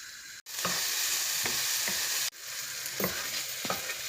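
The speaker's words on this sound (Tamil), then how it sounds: "2 பல்லு பூண்டு, சிறிதளவு இஞ்சி போட்டு நல்லா வதக்கணும்." Garlic cloves, a little ginger and tomatoes sautéing in a pan, with a steady loud sizzle and rhythmic scraping stir strokes about every half-second.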